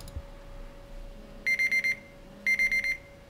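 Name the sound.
phone alarm going off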